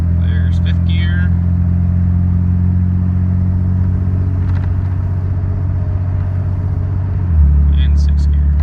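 A truck's engine with a 68RFE automatic transmission drones steadily and loud, torque converter locked, then shifts into fifth gear near the end with a drop in engine pitch.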